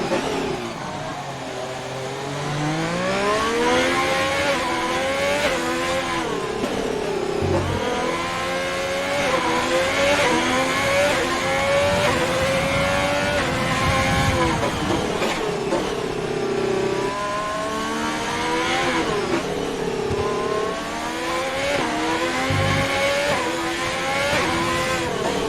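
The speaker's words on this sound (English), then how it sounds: "Listening to the car, you can see he's delicately balancing the throttle and stuff." F1 race car engine in a Formula 1 video game at the Singapore Grand Prix, revving steadily and climbing through the gears with rising and falling pitch sweeps, loud and continuous with no talk.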